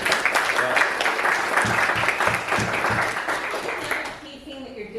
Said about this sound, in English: I think you need a round of applause for that.